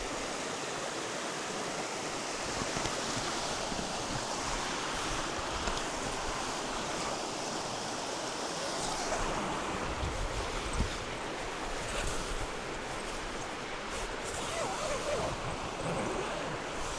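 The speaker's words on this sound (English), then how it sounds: "You just want to kick back next to the creek" Cedar Creek in Montana flows steadily in a continuous, full rush of water close by, with no pauses or voices breaking the broadband wash.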